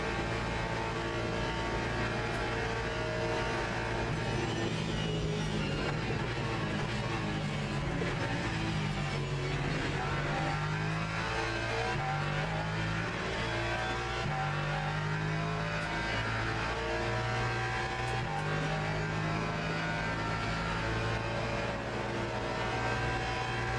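Hypercar race engines in the sim racing game Le Mans Ultimate, a continuous loud drone of high revving engines with shifting pitch as cars accelerate and pass, steady throughout with no talking.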